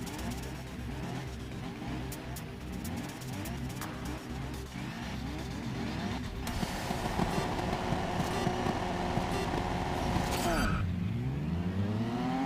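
A Ginetta race car engine in GRID Legends revs up through rising pitch sweeps and gear shifts, climbing louder before a sharp drop and fresh surge of revs near the end.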